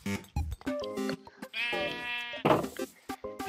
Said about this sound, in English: I know there's a sheep somewhere